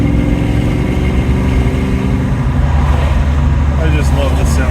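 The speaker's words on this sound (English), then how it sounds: "I just love the sound of this car." A steady, loud engine of a 29-year-old BMW hums and growls throughout while driving, with a low rumbling drone and no speech.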